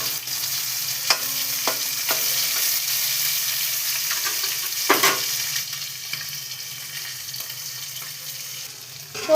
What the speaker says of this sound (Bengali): মাছ ভাজাটা সুন্দর করে উল্টে দিচ্ছি